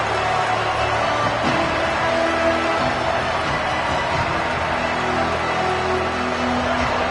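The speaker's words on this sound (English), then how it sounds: "This crowd trying to show them what it's going to be like all day in this house" Stadium crowd in an NCAA college football video game, a steady dense roar of cheering that holds at full volume for the whole stretch with no clear breaks.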